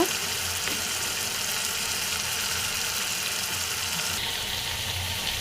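Chili paste added to a pan of tengra fish with ginger paste, giving a steady, close hiss of frying that runs evenly throughout, slightly easing near the end.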